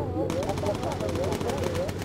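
Machine gun turret firing in the video game Bomber Crew, a rapid, evenly spaced burst of shots running the whole moment, loud and continuous over game engine drone.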